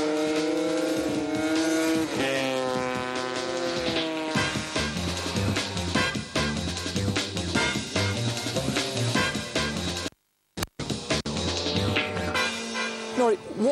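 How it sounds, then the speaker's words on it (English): Racing scooters with small high-revving engines whine past one after another on the Anglesey circuit, pitch rising and falling as they accelerate and shift, loud and close, with a brief dropout near the end. "I'm here at the circuit of Anglesey to experience scooter racing."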